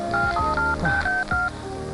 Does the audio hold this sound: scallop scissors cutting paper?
no